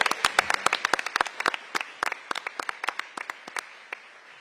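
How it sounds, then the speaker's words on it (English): An audience applauds agency directors at a city budget forum, sparse, distinct hand claps over a soft crowd wash that gradually thin out toward the end, moderately distant. "We'll give them a round of applause"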